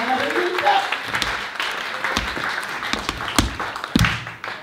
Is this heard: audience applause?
yes